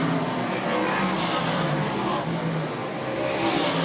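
A pack of seven or eight race cars roars around an oval track coming off turn four, a dense, continuous engine drone filling the whole stretch at steady loudness.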